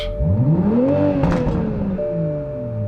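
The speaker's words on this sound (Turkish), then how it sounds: "Çok güzel bir egzoz sesi sizi bekliyor." A 2021 Toyota Supra engine starting up and revving through its exhaust, pitch climbing sharply then holding and easing back into a steady idle, loud and close with no talking.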